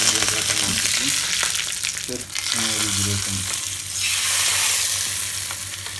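Mustard seeds, green chillies and curry leaves fry in hot oil for a tomato pachadi, giving a steady, close crackling sizzle with bright spatter throughout and a few pops, with no talk.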